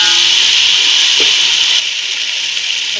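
Masala for chicken biryani is stirred and roasted in a pan over high heat, giving a loud, steady scraping and rubbing sound that continues throughout, slightly softer toward the end.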